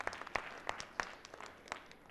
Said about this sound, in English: if you could give a round of applause for our panelists